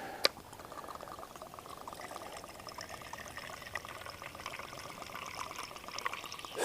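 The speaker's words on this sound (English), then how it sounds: "I'd best put the fuel in it now because the way it's going today, probably spill it everywhere." Fuel is poured into a Trangia spirit stove burner outdoors at a wild camp, a soft steady trickle of liquid running for several seconds with a sharp click at the start, quiet and close, with no talk.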